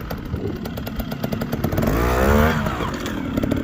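An off-road motorcycle's engine blips its throttle while the rider crosses a log in the woods, a close, buzzing two-stroke-like rasp that swells briefly in the middle before dropping back to a steady drone.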